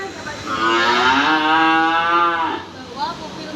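A healthy cow moos in one long, loud, close bellow lasting about three seconds, followed by a short huff, with no talking over it.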